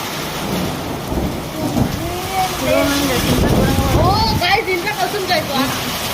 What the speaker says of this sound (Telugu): భయపడుతుంది ఉరుముతుంది అంతా